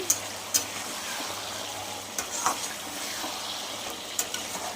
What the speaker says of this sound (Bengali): আমি কষাতে লাগছি এক একতলা কষাতে লাগছি